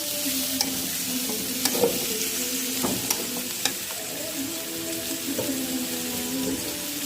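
Spices frying in mustard oil in a pan, a steady quiet sizzle with occasional sharp stirring clicks and scrapes, close by, no talking.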